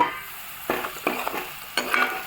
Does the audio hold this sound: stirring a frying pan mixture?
yes